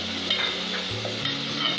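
Tomatoes and chicken go into a hot pan for a quick masala macaroni pasta, producing a brief, steady sizzle with faint stirring and scraping underneath, close and moderately loud, without speech.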